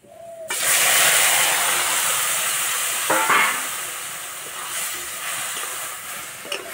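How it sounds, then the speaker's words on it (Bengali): Boiled pumpkin leaves hit hot mustard oil in a wok with a sudden loud hiss that settles into a steady, gradually softening sizzle, with a few scraping stirs. "এবার সিদ্ধ করা কুমড়ো পাতা দিয়ে দেবো।"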